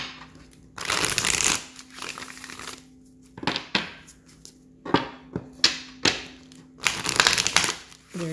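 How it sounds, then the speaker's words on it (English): Tarot cards being shuffled and pulled from the deck: bursts of riffling and papery flicking, with several sharp card snaps and slaps in between, close and fairly loud, no talking. "Let me keep pulling cards."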